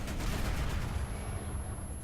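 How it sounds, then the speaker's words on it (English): Sustained heavy gunfire from .50 cal machine guns mounted on a tank in War Thunder, a dense low rumble of rapid shots running steadily throughout, fairly loud with no talk over it. "firing off the 50 cals"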